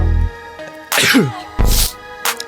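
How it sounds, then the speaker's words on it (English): Two sharp sneezes, one after a short breath intake, over a looping electronic beat with a short third burst at the end. "And I'm about to sneeze again."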